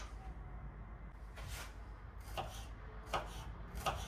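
A knife chops red vegetable finely on a cutting board, giving a few soft, scattered knocks at close range over quiet room tone.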